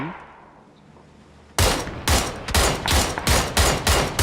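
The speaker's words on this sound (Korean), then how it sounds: "저 쏘죠. AK." Rapid AK rifle bursts in the battle royale game PUBG: after a quiet stretch, loud repeated gunfire cracks in quick succession, several bursts close by and dominant.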